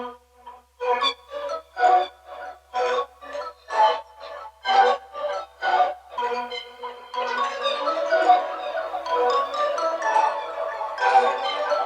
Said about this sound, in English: All that this is a tremolator, and you can do this in shaper box, gross beat as well.